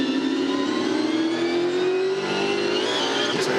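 Supercars V8 race cars at the 2014 Ipswich 400 circuit, a loud sustained engine note rising steadily in pitch under acceleration, with a brief sharp knock near the end as cars make contact.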